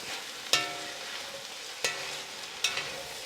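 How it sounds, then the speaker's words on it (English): Sweated vegetables for a cream of broccoli soup stirred in a pot, a steady sizzle with three sharp scrapes and clanks of the spoon spaced across the moment. "put those in there in one fell swoop, and we'll get those stirred around a little bit"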